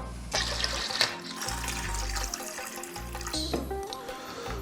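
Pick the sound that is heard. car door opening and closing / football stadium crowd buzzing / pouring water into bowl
pouring water into bowl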